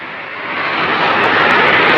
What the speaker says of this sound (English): And we have engine ignition.